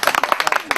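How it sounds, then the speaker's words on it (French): A short spatter of audience clapping, a quick run of distinct, close hand claps in an uneven rhythm lasting under a second. "On applaudit."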